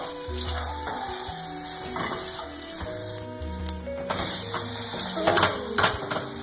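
Thai omelette (khai jiao) eggs frying in hot oil give a steady, crackling sizzle that swells toward the end, with faint tonal sounds running underneath.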